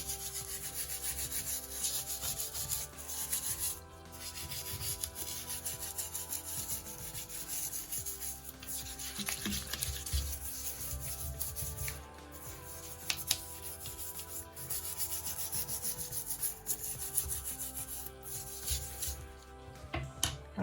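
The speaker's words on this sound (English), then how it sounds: "I've sprayed the solution in here already, so all I have to do is scrub and scrub until it's nice and clean." A bathroom surface is scrubbed clean by hand after a cleaning solution has been sprayed on, a continuous close rubbing and scouring with steady back-and-forth strokes and occasional knocks.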